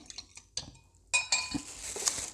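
A spoon clinks and scrapes against a bowl while cornflour-and-water slurry is mixed into a marinade for pork steaks, a few light taps followed by quicker clattering strokes.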